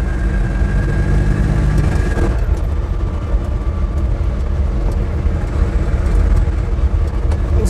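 Steady interior drone of an Invacar driving on the road, a low engine hum with wind and road rumble that stays loud and continuous throughout, with no speech.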